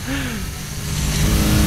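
Car engine in the Need for Speed Heat racing game revving hard and accelerating, a loud steady roar building in intensity across the stretch, with no talk over it.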